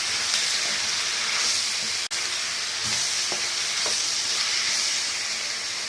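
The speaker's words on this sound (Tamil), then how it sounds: "இப்போ வந்து நம்ம தக்காளி போடுறோம் தக்காளி வந்து நல்லாவே வதங்கணும்" Onions and tomatoes sautéing in a pan for paneer masala give off a loud, steady sizzle and hiss, with a few soft stirring scrapes and one brief break in the sound.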